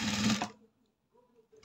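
A sewing machine stitches round the curved neckline of a blouse in a short burst of fast, close mechanical whirring, then stops, leaving near silence with a faint hum before it briefly restarts.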